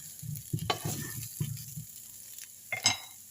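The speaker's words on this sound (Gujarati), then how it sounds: "તો આપણા બટેટા થઈ ગયા છે ફ્રાય." Potatoes fry for dum aloo in a pan, with soft sizzling and a few stirring scrapes and clinks at close range.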